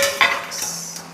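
A lid goes onto a pot of cooking goat meat with a short metallic clink and a brief ringing tone, a close, single contact followed by a faint hum.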